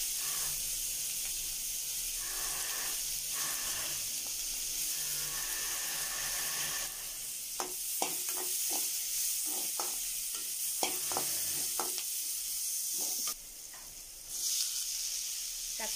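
Close-up sizzling of onion, mustard seeds and cumin frying in hot oil for tempering, with intermittent crackles, pops and the clatter of stirring.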